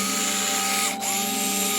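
Gyroscopic electric screwdriver running steadily with a high, whiny motor hum that dips briefly in pitch, close and moderately loud, without talk.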